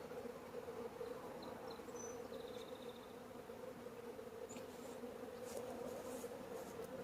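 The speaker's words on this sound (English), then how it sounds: "we have some bees in the bottom" A steady, low buzzing of many honeybees around a nuc hive box continues throughout, fairly quiet and constant, with no voices.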